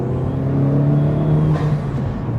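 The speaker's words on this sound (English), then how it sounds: "You can even hear that on the downshift." Honda Civic Type R FL5 with an Armaspeed intake, heard on a downshift: a close, steady engine drone with a faint turbo whistle rising briefly near the end, no talking.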